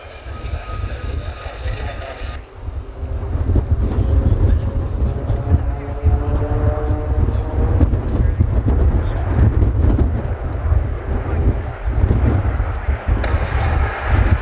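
Roulettes aerobatic team aircraft flying a formation manoeuvre, a steady droning propeller engine roar that swells and holds loud with wind buffeting, beginning after a faint electronic tone.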